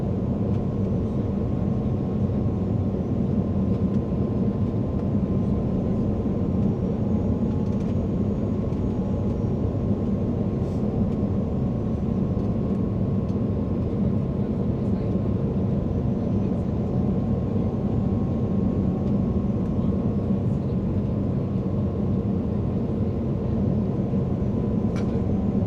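Constant low engine roar and rumble inside a Swiss Airbus A330-300 cabin during landing approach, unbroken and steady throughout with no talking.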